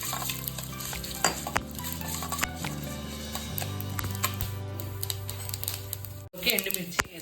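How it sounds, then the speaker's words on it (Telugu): Mustard seeds and fenugreek fry in oil for gongura pulihora, a dense steady sizzle with crisp ticking pops and stirring clatter, cut by a brief pause near the end. "దాంట్లోకి 2 టేబుల్ స్పూన్ల ఆవాలు, 1 టేబుల్ స్పూన్ మెంతులు బాగా వేగాలండి ఎర్రగా"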